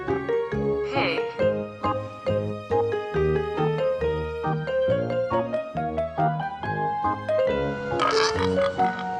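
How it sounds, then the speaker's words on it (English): Pig oinking and grunting from a farm-animal toy or recording, repeated grunts over a continuous bright musical backing that plays throughout. "Pig."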